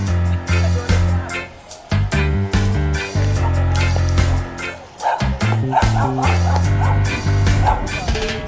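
Dogs in a village in St. Thomas, Jamaica, bark loudly and repeatedly with yips and whimpers, close by, while people talk nearby.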